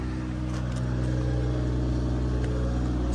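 Mercedes-AMG engine at a Copart lot, a steady deep rumble held at constant revs, close and unbroken, without voices.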